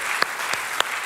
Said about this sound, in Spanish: Podemos aplaudir el verdadero héroe.